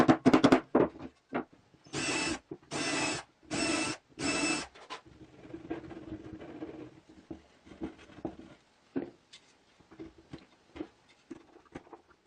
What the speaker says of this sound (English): I'm just going to do that by tapping the screws.